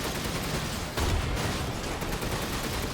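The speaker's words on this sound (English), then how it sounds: "Use the cannon." A cannon booms in Resident Evil Village amid a rough, noisy wash of game sound, with one heavier burst about a second in over steady rumble.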